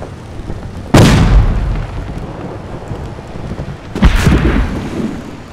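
Two heavy cannon blasts boom in a Tintin video game, the first near one second and the second around four seconds, each a loud burst decaying into a rumbling wash over steady background ambience.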